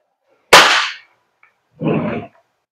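A WE Beretta M92 airsoft gas blowback pistol fires once with a sharp, close crack, followed after a pause by a short hiss-like burst.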